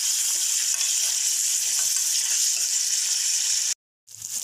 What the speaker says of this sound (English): After sauteing the moringa leaves for 1 minute in high flame